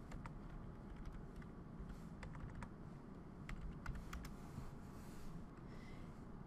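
Steady clicking of keys on a computer keyboard while typing a search word, a busy run of close, light taps over a low background hum.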